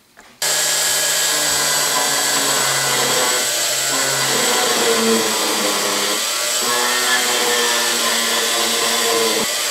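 A power drill whines continuously at close range, its pitch wavering slightly as it bites into a metal index plate, drilling a pilot hole, starting abruptly after a brief moment of quiet.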